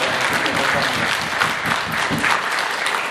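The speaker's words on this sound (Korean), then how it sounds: "우리 교우들 그래도 박수로 다시 한번 보여주세요" Church congregation applauding during a Sunday service at a Methodist church, a brief, loud burst of close, dense clapping throughout.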